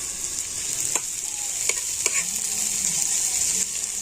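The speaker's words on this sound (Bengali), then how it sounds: "আর এখন আমি তেলের মধ্যে দিয়ে দেবো পেঁয়াজ" Finely chopped onion sizzles steadily in hot oil in a frying pan, a constant bright crackle with a few sharp stirring clicks from a utensil, close and alone.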